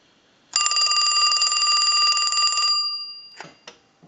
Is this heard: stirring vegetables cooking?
no